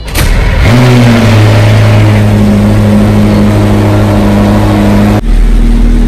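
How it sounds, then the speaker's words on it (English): McLaren P1 Carbon Series supercar engine fires up after a click, then holds a loud, steady high idle with a droning tone for several seconds before briefly dipping and settling again, close and alone. "How you start the McLaren P1 Carbon Series?"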